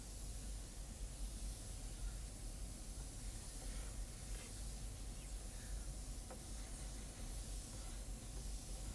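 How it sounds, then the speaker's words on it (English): A cheap airbrush sprays paint onto a skull, giving a faint, steady hiss of air with no breaks, close by with no talking. "We'll switch to the other airbrush right away."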